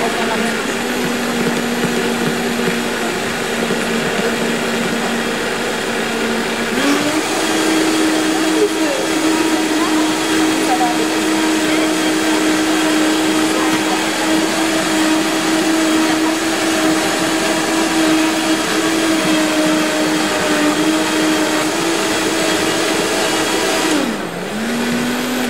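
A Vitamix blender running continuously for about 25 seconds, loud and steady, its motor whine holding one pitch before stepping up slightly and then dipping briefly near the end.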